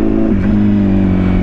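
A Kawasaki Z800 motorcycle engine idles and revs up close, a loud, steady four-cylinder drone with a slight rise in pitch partway through, heard alone without talk.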